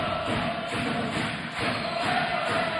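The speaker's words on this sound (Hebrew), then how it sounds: "קהל של הפועל חיפה" Hapoel Haifa supporters roar steadily in a stadium, a dense and continuous crowd din with chanting swells and no pauses.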